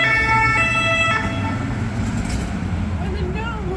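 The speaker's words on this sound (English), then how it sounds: "Why the sirens so cute" Emergency vehicle siren wailing through Paris streets with steady tonal sweeps over constant traffic rumble and voices talking, the siren fading in the second half.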